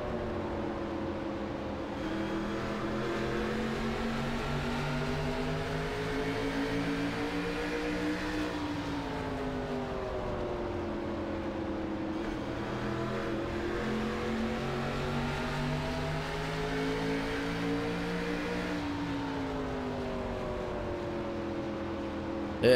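Race cars lapping a short track in the iRacing sim, a near-continuous engine drone whose pitch rises and falls as the cars power through each lap, with several cars droning together and no voices.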